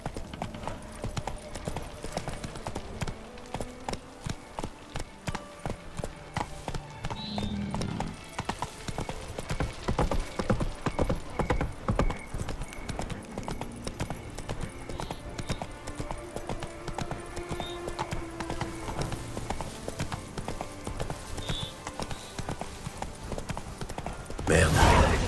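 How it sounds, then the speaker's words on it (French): A horse gallops in The Witcher 3, a steady rapid clip-clop of hooves running throughout at close range, layered with game ambience and music, ending in a brief louder burst. "Au galop, Ablette."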